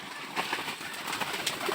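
Pigeons in a small farm loft, restless birds fluttering and stirring with faint cooing, a busy steady wash of close bird noise without speech.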